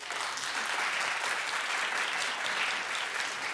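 A television talk-show studio audience claps loudly and continuously, a dense, even wash of applause with no pauses.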